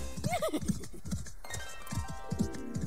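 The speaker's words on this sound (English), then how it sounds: "Spark neighed again and nodded." A horse neighs and hooves clip-clop in a storybook read-along, a brief whinny near the start over a steady rhythmic trotting beat that continues throughout, close and moderately loud.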